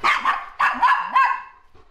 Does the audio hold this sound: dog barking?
yes